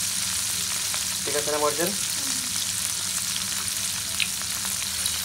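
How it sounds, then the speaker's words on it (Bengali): Onions fry in oil in a pan for noodles, giving a steady, close sizzle that runs under a brief spoken remark and a short vocal sound. "নুডলস রান্না করার জন্য এখানে পেঁয়াজ দিয়ে দিচ্ছে, তেল খাওয়া পেঁয়াজ"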